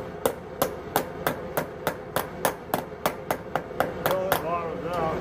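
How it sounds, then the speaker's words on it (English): Hammer blows shaping a copper ladle or spoon over a form, about a dozen sharp, evenly spaced metallic strikes close up, with faint talk near the end. "Waggle the hammer. Until it bottoms out."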